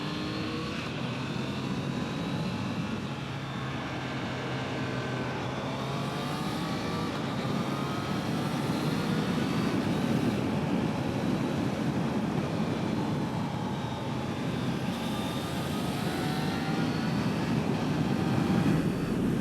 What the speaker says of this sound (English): Excitable inline triple 660 engine there.